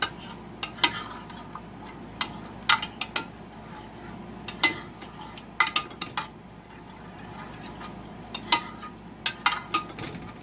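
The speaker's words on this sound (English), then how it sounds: "And you just want to stir this up slowly." A spoon stirs evaporated milk slowly into a green bean chicken casserole in a dish, with irregular clinks and scrapes against the dish over a soft wet churning, close and moderately loud, with no talk.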